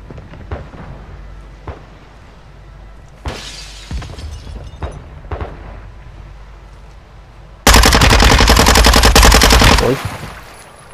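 Loud bursts of rapid automatic gunfire from the video game Call of Duty Modern Warfare, preceded by scattered distant shots and clatter, then a dense close volley lasting several seconds.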